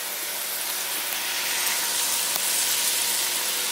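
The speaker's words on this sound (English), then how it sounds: "Hear that sizzling." Four chicken thighs fry in a hot pan with a loud, steady, hissing sizzle that holds constant throughout, close up and without talk.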